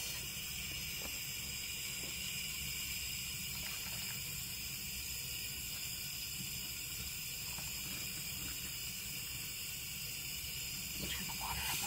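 Warm water runs steadily from a tap while hair is being rinsed, a constant close hiss and splash lasting throughout with faint handling noises.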